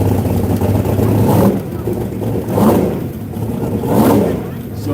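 A 1933 Dodge pickup and a big block Chevy drag car rev at a drag strip in the woods, loud engine surges rising in three waves beneath steady commentary.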